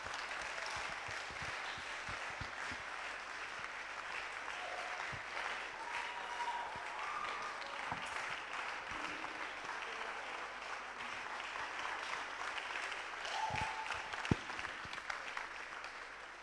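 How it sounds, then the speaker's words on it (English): A church conference congregation claps steadily in a large hall, a continuous moderate wash of many hands with occasional sharper claps, no speech over it. "Want to give the Lord a better clap offering"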